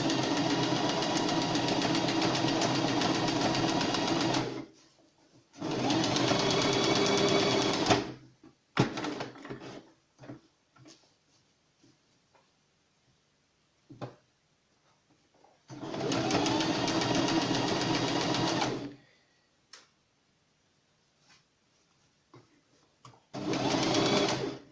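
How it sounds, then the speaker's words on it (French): A sewing machine stitches the top and bottom seams of a fabric protective face mask, buzzing in several long, loud, steady runs separated by quiet pauses with faint handling clicks between them. "je vais coudre en haut et en bas à 1 cm."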